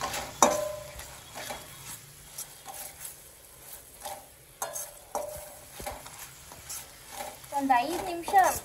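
A spoon stirs rose petals and sugar in a pan with soft scraping and occasional clinks against the metal, faint and close, with a light sizzle toward the end and a voice talking in between.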